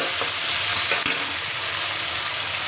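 Chopped tomatoes sizzle and fry in a pan for Surai fish curry, a steady close hiss broken by a sharp scrape of stirring near the middle.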